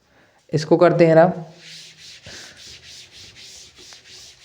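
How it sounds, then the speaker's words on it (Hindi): A hand rubs an object in a classroom physics demonstration, about ten steady back-and-forth rubbing strokes in an even rhythm, close and fairly soft, after a short burst of speech. "चलिए अब इसको करते हैं रब"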